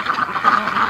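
Ducks wintering in a pen in snowy weather quack in a continuous close chorus of overlapping nasal calls, loud and without talk.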